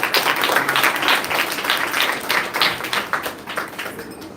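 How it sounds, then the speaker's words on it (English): A group of schoolgirls claps at a Year 6 transition ceremony, a loose patter of many hands with uneven bursts that swell and fade, fairly close, with no talk over it. "Girls, we can clap louder."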